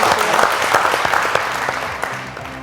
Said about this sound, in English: maybe if we give another round of applause for the panel.